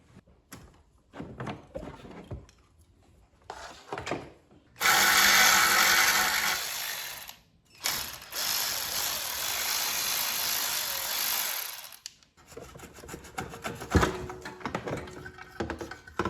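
A power wrench whirs loudly in two long bursts, removing 12 mm exhaust manifold bolts on a Honda 420 engine, with scattered metallic clinks and tool handling before and after.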